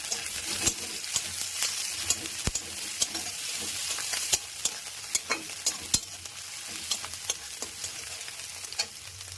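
Chopped onion, green chilli and grated ginger sizzle loudly in hot oil in a pan, with steady frying crackle, scattered pops and sharp clinks of a spatula stirring throughout.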